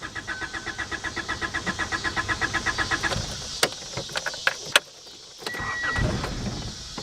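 A 62,000-mile 1985 Honda Accord running on stale fuel: a starter cranks in a fast, even rhythm for a few seconds, then stops, followed by scattered clicks and knocks and a brief rough rumble.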